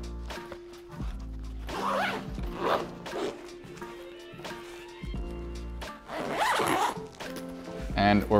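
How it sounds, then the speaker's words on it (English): The zipper on a Tropicfeel Shell backpack is pulled closed in several long, rasping runs with short pauses between them, close and fairly loud. "Zip it up."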